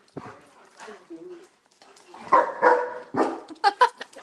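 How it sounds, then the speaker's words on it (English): Dogs barking excitedly in short, loud bursts mixed with whiny whimpers and yips, close up, with some voices in the mix. "Imagine that in your face when they're totally barking and going bananas"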